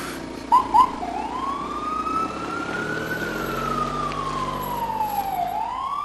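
An ambulance siren wails in a long, steady rising and falling sweep after two short chirps at the start, loud and close over a low engine rumble.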